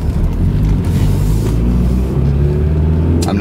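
A 1987 Porsche 944 engine revs steadily while driving, a loud, continuous rumble and drone close by with no talk over it.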